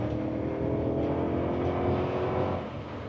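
Deep, steady roar of a BMW 840Ci's 4.4-litre V8 under acceleration, heard from inside the car, holding even and fairly loud before easing off near the end.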